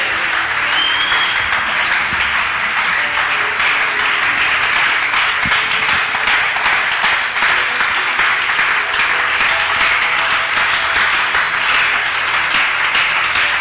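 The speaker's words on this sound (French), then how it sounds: "On acclame le Seigneur. On acclame Jésus." Church congregation applauding loudly and continuously for the Lord, a dense wash of many hands clapping without pause for the whole stretch, close and full, with no voices over it.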